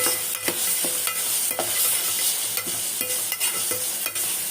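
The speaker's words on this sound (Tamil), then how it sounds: "இஞ்சி பூண்டு பேஸ்ட்டு போட்டணும். அதையும் போட்டு நல்லா வதக்கணும்." Ginger garlic paste sautéing in a pan for biryani, a constant bright sizzle broken by regular scraping and knocking strokes of a ladle.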